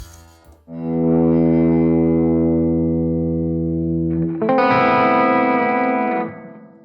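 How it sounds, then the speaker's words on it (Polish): Electric guitar played through a NUX Mighty 20BT MKII compact amp with a room reverb effect: a single sustained chord ringing for about four seconds, then a second, brighter strummed chord, loud and close, with a short reverb tail. "Zacznijmy od pogłosu. Jest tutaj jakiś plate, może weźmy sobie Room."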